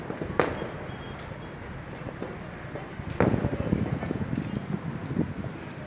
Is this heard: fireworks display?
yes